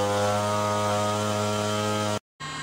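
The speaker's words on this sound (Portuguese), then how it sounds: "O motor voa muito firme, né, cara?" A Cessna 310 twin-engine aircraft in flight, a loud steady droning engine hum with strong even harmonics, cut by a brief dropout near the end before the drone resumes.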